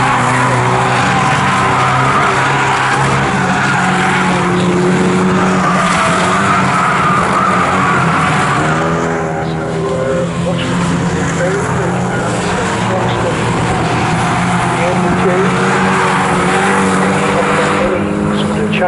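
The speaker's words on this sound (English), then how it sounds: "Challenge to Wayne Rocket as they head around Coram on lap number 2 of this rerun." Race cars of the Carbon8 Coupe Cup circling Snetterton circuit, engines droning loudly and continuously with shifting pitch as the pack rounds a corner, a commentator talking over the racket throughout.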